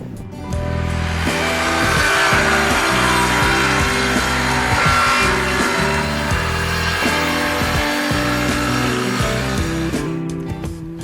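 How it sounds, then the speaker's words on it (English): A worm drive circular saw cuts pallet wood bench top pieces against a clamped straight edge, a loud, steady motor drone with grinding blade load running through the whole stretch. "we clamped a straight edge down to use as a fence and cut them clean with our worm saw"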